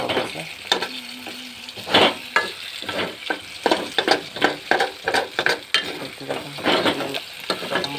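Crab frying in a little oil in a pan, a steady sizzle broken by repeated scraping and stirring strokes of a utensil against the pan, close up, with a voice speaking now and then.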